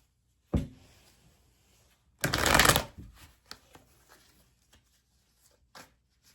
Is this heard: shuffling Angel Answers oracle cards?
yes